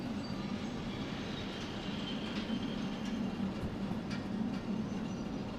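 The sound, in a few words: loose-coupled train wagons shunting in video game Derail Valley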